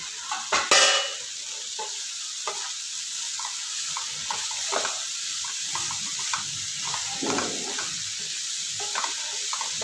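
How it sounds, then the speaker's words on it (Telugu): Sliced bitter gourd fries in a pan, giving a continuous bright sizzle with soft stirring scrapes and occasional clinks near the start, and no voices. "ఇలా ఫ్రై చేసుకోండి, ఎర్రగా ఫ్రై చేసుకుంటే చాలా బాగుంటుంది"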